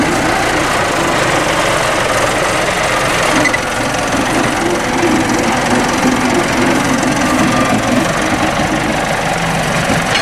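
A steady tractor engine rumbles continuously at close range during silage bale loading, a low idling drone with faint mechanical knocking throughout.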